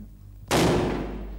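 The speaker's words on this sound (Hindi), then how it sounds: "मैंने ये रिमोट कंट्रोल से पटाखा फोड़ा" A firecracker set off by remote control goes off in a single sudden loud bang after a brief low hum, the blast ringing out and slowly fading.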